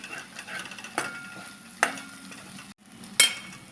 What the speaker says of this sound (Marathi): आणि हे चांगलं एकसारखं हलवून घेऊया आपण